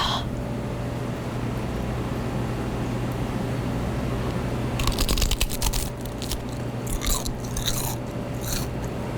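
Crisp, crackly crunching of fried seaweed being bitten and chewed up close, starting about halfway through over a steady low background hum.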